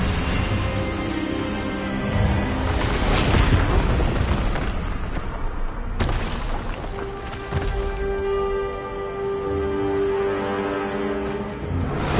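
The Expelliarmus spell fires in the video game Hogwarts Legacy, a loud booming magical burst over a dense layered game soundtrack, with the impact peaking early and a sustained rumbling swell continuing after.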